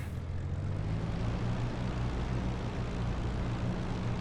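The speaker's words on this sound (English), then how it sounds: "We've got a good start on engine number 2. We'll run that up to about 1200." De Havilland Mosquito piston engine in DCS World running up after start, a steady loud propeller drone with a throbbing low hum, continuous and close.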